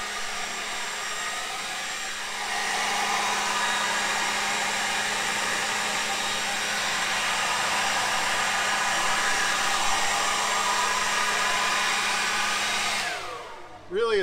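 Worx leaf blower running on low indoors in an RV, a steady loud whooshing whine that holds for the whole stretch before cutting off near the end.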